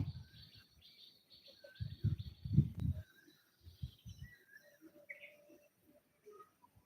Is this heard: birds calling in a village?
yes